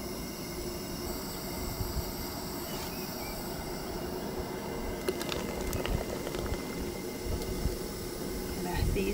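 A mixed berry wine mixture boiling in a pot, giving a steady, close bubbling hiss that continues evenly throughout with faint popping.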